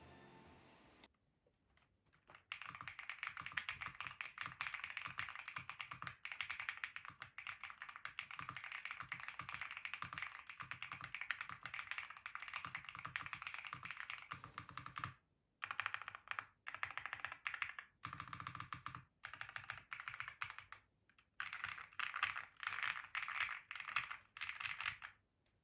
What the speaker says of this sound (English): here's how the keyboard sounds without that singular layer of foam